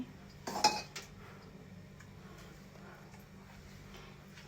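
Dishes and cutlery clink as rice is served onto a plate, a short cluster of clatter near the start, then quiet kitchen room tone.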